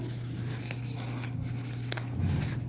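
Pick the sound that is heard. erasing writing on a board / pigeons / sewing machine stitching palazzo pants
erasing writing on a board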